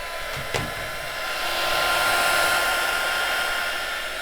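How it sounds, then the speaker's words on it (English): Heat tool blowing hot air over freshly poured sea-inspired resin coasters, held about six inches away: a steady, close whooshing hiss that swells slightly and holds, with a brief click as it starts. "So turn on your heat tool."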